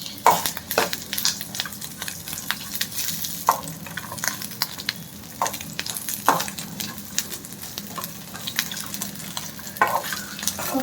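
Whole spices fry in a pan for a Kerala chicken gravy, a soft continuous sizzle broken by repeated sharp scrapes and clicks of a utensil stirring them, close and unaccompanied by speech.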